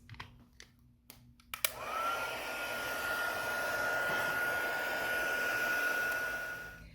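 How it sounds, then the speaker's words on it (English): A heat tool blows steadily over embossing powder on stamped holiday cards, a loud continuous whirring hiss with a faint whine that starts after a few soft taps and handling knocks, running alone without talk. "Let's get the heat tool and emboss."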